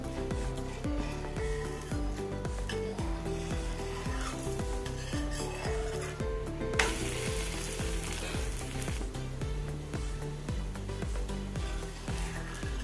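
A ragi oats dosa cooking on a hot pan, a continuous close sizzle under rhythmic scraping and tapping sounds that run steadily throughout, without any talking.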